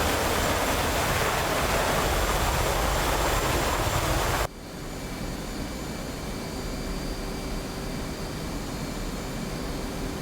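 Steady broadband jet engine roar from a fighter jet in a flight simulator game, loud and continuous, dropping abruptly to a quieter, more muffled hum partway through, like a switch to a cockpit view, with faint tonal whines.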